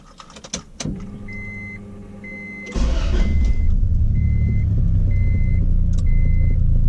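A boosted Honda Accord with a recently fixed starting problem cranks and fires up about midway, then settles into a steady, loud, rumbling idle, while electronic chime beeps repeat at regular intervals.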